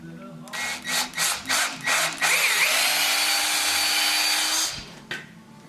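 A power drill revs in several short bursts while drilling for a winch mount, then runs in one steady, loud whine for a couple of seconds before stopping.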